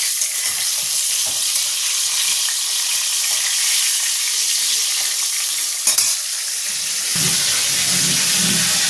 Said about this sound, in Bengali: আর এখানে বসিয়েছি পটল ভাজা।